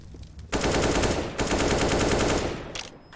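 Loud gunfire in a Counter-Strike match, with dense, sustained bursts of shots that start abruptly, pause briefly, then resume before trailing off; the pistol in use is a Desert Eagle.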